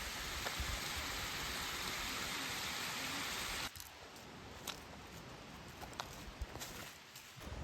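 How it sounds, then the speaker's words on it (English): A small stream at Lydford Gorge rushes with a soft, continuous wash of water, faint and steady, dropping noticeably in level partway through. "This little impressive stream."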